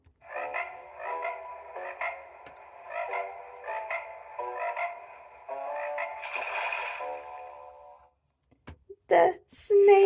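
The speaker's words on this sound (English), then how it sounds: "The frogs." Rhythmic croaking calls from a children's noisy garden sound book pulse repeatedly in a steady pattern, like frogs, for several seconds before stopping; a voice speaks briefly at the end.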